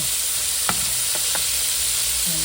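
Shrimp fry a few at a time in hot oil, producing a loud, dense, continuous sizzle with a few faint clicks and a low scrape near the end, no voices.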